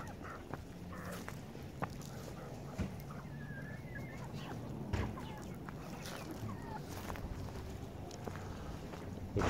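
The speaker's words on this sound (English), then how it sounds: "There's the chickies." Chickens kept near a greenhouse cellar give faint, scattered clucks and chirps over a steady low background hum, heard from some distance.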